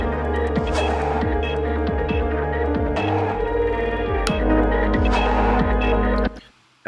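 Gain pushed up on a music track, giving a thick, gently distorted tone over a steady pulsing low throb with rhythmic sweeps, loud and continuous before cutting out abruptly near the end.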